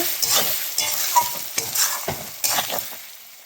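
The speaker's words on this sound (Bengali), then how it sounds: "ঢাকনাটা খুলে নেব, আবার একটু নেড়ে চেড়ে নেব।" Fish and potato curry being stirred in a pot, close sizzling and frying with a steady, rhythmic scrape of a spoon against the pot, no talking.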